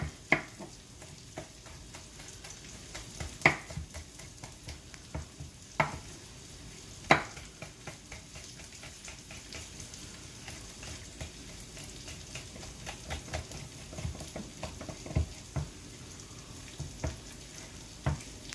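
Thinly sliced cabbage cooking in a pan with oil and pepper, a quiet continuous sizzle broken by occasional sharp scrapes and stirring knocks.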